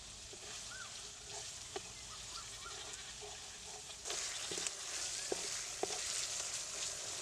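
Spice paste cooking down in oil for a Bengali katla fish curry with bottle gourd stems, a steady low sizzle running throughout, growing slightly louder partway through, with occasional faint clicks and scrapes.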